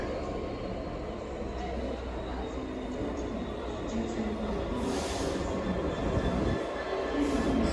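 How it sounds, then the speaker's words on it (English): Royal Scotsman passenger train hauled by a Class 66 diesel locomotive at Aviemore, moving slowly; a steady rumble of wheels and engine holds throughout, with faint squeals near the end and a voice briefly in the background. "Here we go, it's the Royal Scotsman."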